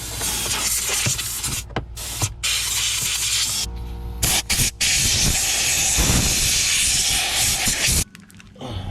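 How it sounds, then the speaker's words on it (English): A spray cleaner hisses in repeated loud close bursts during cleaning of a Mazda RX8 that sat for years, with short pauses between sprays and one longer continuous blast. "I'm using a spray cleaner."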